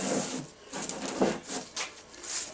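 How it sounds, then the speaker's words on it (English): Wet-and-dry sandpaper rubs over a wooden knife handle coated in oil. A steady run of gritty back-and-forth strokes, about two a second, sounds close and alone. "what you've got to do is get your wet and dry and start rubbing"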